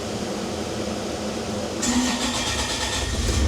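A heavy Bobcat excavator diesel engine cranks and catches partway through, settling into a steady, loud mechanical rumble with a fan-like hiss.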